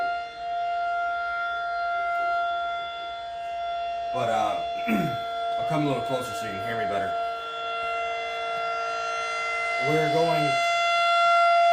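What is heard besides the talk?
civil defense siren monthly test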